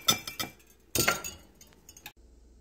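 A utensil clinks against a glass bowl while beating a batter of bean sprouts, shrimp and green onion for an omelette, with a few quick taps, a pause, then another cluster of clinks, close and clear.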